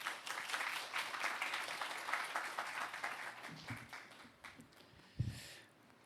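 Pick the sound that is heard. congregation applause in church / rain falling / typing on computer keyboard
congregation applause in church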